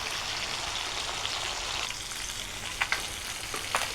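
Hilsa fish pieces fry in a pan with a dense, even crackling sizzle heard up close, joined by a few sharp spatula taps toward the end.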